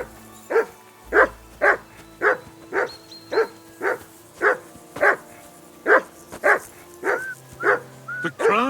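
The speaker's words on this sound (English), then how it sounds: "Call off that damn dog before he walks down the last of our meat." Dog in Kingdom Come: Deliverance II barks steadily and close, about fourteen sharp regularly spaced barks, with a short whine between the last ones.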